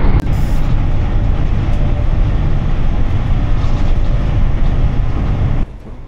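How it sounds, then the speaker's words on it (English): Loud, steady rumble of a train running on rails toward Penzance, heard from inside, constant for several seconds before dropping abruptly near the end. "I'm sure they're determined that this train, being the last one, will pull into Penzance exactly on time."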